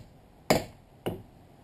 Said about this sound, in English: I'm just going to use a punch with a hammer and make a mark here.